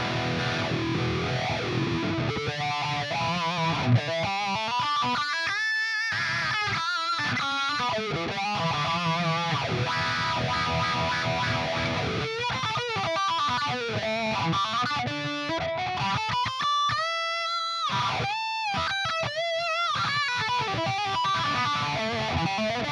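Distorted electric guitar played through a Dunlop Mini Cry Baby wah into a 5150 amp, with sweeping wah vowel tones across fast riffs and sustained bent notes, loud and continuous with no talking.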